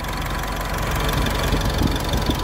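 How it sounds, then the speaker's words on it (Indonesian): A Mitsubishi Triton single-cab 4x4 pickup engine idles close by with an even, steady rumble. It runs smooth and level with light, regular mechanical ticking throughout. "Oke, kita langsung cek suara mesinnya. Mesin sangat bagus pemirsa, sangat halus, rata,"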